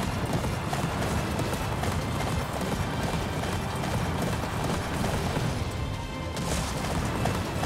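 Horse hooves clip-clop steadily in Attack on Titan 2, a dense continuous galloping patter with mechanical game noise mixed in, loud and unbroken for several seconds with no talk.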